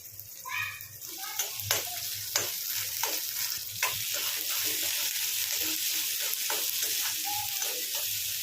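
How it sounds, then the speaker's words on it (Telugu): Sliced onions and curry leaves frying in a pan, with a steady sizzle and repeated close scraping stir strokes throughout; a faint brief voice in the background. "కొద్దిగా కరివేపాకు వేసుకొని ఉల్లిపాయలు అయితే ఫ్రై చేయండి."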